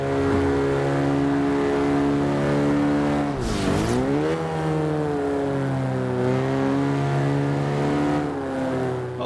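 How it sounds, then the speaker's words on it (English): A 1965 Mini Cooper S engine and exhaust revving steadily with a raspy drone, dipping sharply partway through before climbing back and holding a high, buzzing note, loud and continuous with no talking. "in terms of noise, it has that distinctive 60s sound, that sort of bang, crackle and pop"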